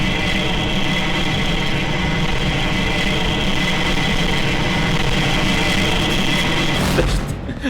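Roaring jet engine noise in the platform video game N++, a loud sustained broadband rush with a steady high whine, continuing unbroken for several seconds before cutting off abruptly.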